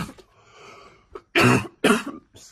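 A woman coughs several times: two loud, harsh bursts stand out after a fainter throat-clearing sound, followed by a softer trailing cough, all close and without other speech.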